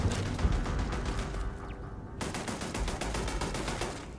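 Rapid automatic gunfire from turrets in the video game Starfield, dense repeated bursts at steady loudness with a brief gap midway, no talking.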